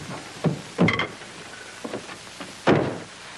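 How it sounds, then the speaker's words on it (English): A travel trailer door is worked shut with a few bumps, a sliding scrape and a final heavier thud, close by with no talking. "Will you close this door,"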